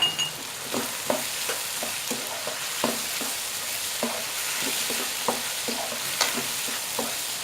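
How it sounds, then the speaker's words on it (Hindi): Chicken and vegetables fry hard on a high flame for macaroni, with a steady sizzle under a regular rhythm of sharp stirring scrapes and clatters, close up and with no talking. "मैं मुसलसल इसको हाई फ्लेम पे ही पका रही हूँ"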